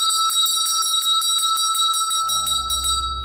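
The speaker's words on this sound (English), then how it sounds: "The bells outside the kitchen are operated by a pulley system and alert the maids when to take the food up." A servants' call bell outside a house kitchen, worked by a pulley system, rings rapidly and repeatedly, bright and close, while a low hum joins near the end.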